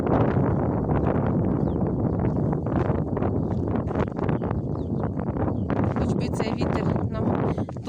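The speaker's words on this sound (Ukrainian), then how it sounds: "Вітер, я думаю, ви чуєте, який." Strong wind gusting outdoors in a vegetable garden, a loud buffeting roar across the microphone with rustling, continuous throughout.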